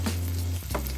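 Raisins and cashews fry in a pan, giving a brief, close, steady sizzle with a soft stir partway through.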